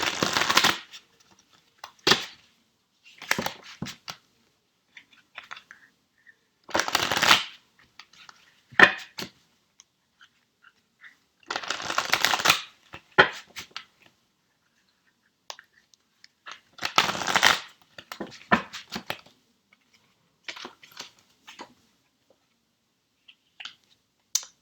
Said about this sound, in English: Let me mix the other deck,